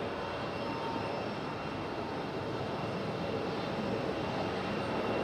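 A Delta Connection Embraer E175 regional jet taxis at Raleigh-Durham International Airport, a steady broad engine roar that holds at an even level throughout, with no voices.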